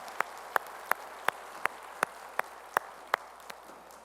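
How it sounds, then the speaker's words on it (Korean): A church congregation claps in unison during a worship service: about ten sharp, evenly spaced claps at a brisk, steady tempo over a quiet room hum. "우리 찬양을 바치니께 영광의 박수 올리겠습니다."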